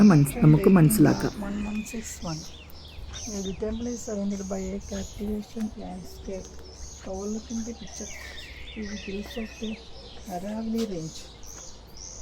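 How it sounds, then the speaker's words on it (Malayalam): Birds chirping and singing repeatedly around an ancient temple in a forest, moderately close bird calls running throughout, with a voice speaking briefly. "ഈ കാടിൻ്റെ നടുവിലൂടെ നടക്കുമ്പോൾ ചുറ്റും കേൾക്കുന്ന പക്ഷികളുടെ മധുരമായ ശബ്ദവും"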